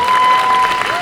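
An outdoor audience at Laurelhurst Park claps hands in a dense, sustained burst of applause, loud and steady throughout with a thin tone held over it.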